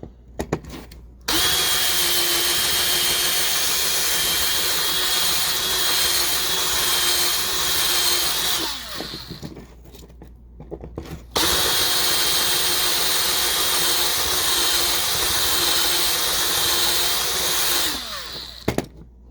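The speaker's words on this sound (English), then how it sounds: "Let me do a little bit more drilling here." A power drill drilling out a rivet on a toy die-cast car whines loudly and steadily for several seconds, stops briefly, then drills again in a second long burst before cutting off.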